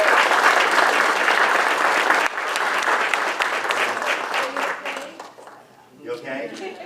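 A room of people applauds Jessica at a city council meeting, loud, dense clapping that thins out over several seconds and gives way to talking.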